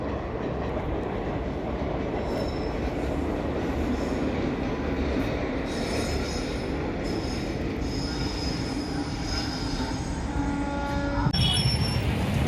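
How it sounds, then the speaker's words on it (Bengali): A passing train near Prayagraj gives a continuous loud rumble. High metallic wheel squeals rise through the middle and swell sharply near the end. "এখান থেকে ট্রেন যাচ্ছে"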